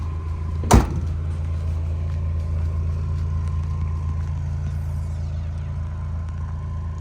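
A Eunos Roadster engine idles steadily in neutral, a smooth low hum with no tapping, held close throughout, with a single sharp click near the start.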